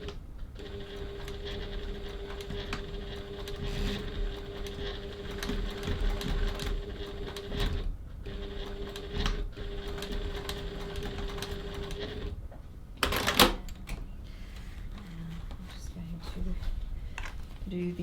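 A sewing machine top stitches a crossbody bag at a 3.1 stitch length, its steady whirring hum running in long continuous bursts with short breaks, while a voice talks over it.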